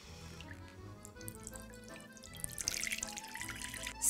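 Water pours into a bowl for a country-style bread dough, starting with faint trickles and drips and swelling into a fuller, louder splashing stream near the end, close by and without speech.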